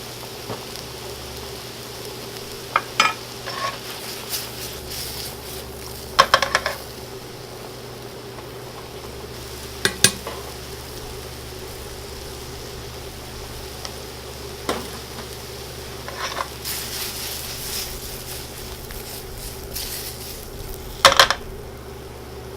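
Turkey sausage sautés with mushrooms and aromatics in a pan for red-sauce pasta, a steady sizzle broken by occasional sharp clatters of the utensil against the pan.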